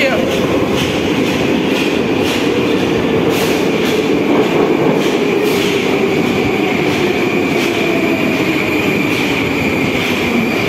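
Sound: Moscow-2020 metro train arriving at station

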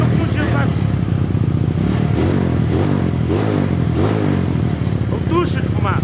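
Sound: modified Honda Today motorcycle engine running

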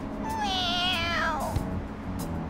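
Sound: cat meowing in Persona 5 video game

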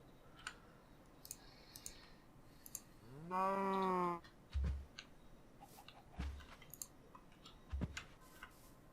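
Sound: cow mooing in the video game Minecraft

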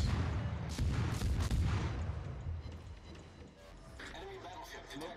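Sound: ship guns firing in video game World of Warships

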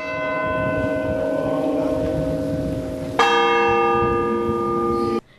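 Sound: church bells tolling mournfully

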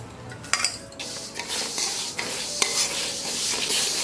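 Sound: frying moong dal in a pan

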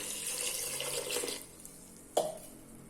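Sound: pouring water into a cooking pot

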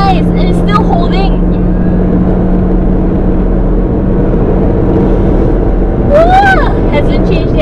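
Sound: 2018 Mazda6 Skyactiv-G 2.0L engine revving in sports mode

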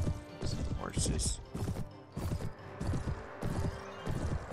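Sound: horses' hooves in Mount & Blade Warband video game

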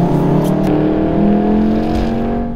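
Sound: 2018 VW Golf R accelerating hard from full throttle

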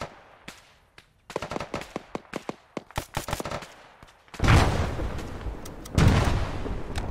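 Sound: gunfire laying down fire in Arma III video game

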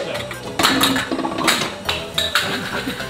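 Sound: small pot and dishes clattering while cooking an egg

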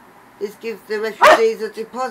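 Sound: dog barking

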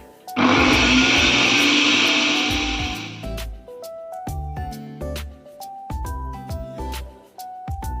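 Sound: electric grinder grinding roasted spices

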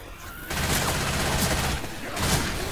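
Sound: gunfire in Left 4 Dead 2 video game

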